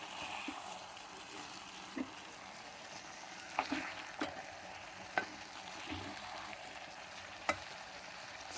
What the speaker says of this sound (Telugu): ఇప్పుడు ఇది బాగా కలుపుకోవాలి.